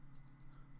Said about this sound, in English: Is that my watch beeping?